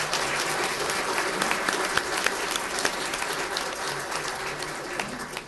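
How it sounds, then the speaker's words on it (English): A crowd applauds city councilmen at a swearing-in ceremony in North Charleston, a steady wash of dense clapping filling the room from start to finish without a break. "Let's give them all another round of applause."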